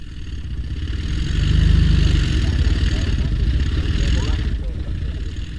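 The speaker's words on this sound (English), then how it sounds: "what you think in fact is a growling aeroplane engine is in fact a Crossley tender" A Crossley tender truck engine growls steadily at mid distance, swelling in loudness around the second mark and then holding a rough, throaty drone, with a faint voice speaking over it.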